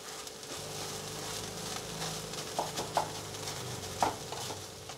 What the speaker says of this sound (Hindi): अच्छे से इसे सुखा लेते हैं हम तेज़ आँच पर